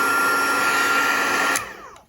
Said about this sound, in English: I'm just going to hit this with my heat tool a little bit just to see if I can get this to dry.